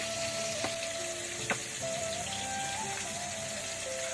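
Fish shallow-frying in a pan for a Bengali fish curry, giving a steady, soft sizzle throughout with a few faint clinks and stirring taps, fairly quiet and without talk.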